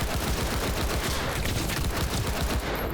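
Dense, continuous automatic gunfire from the video game Cyberpunk 2077 fills the moment, loud and relentless with overlapping shots and no pauses.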